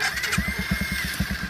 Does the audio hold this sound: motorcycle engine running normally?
yes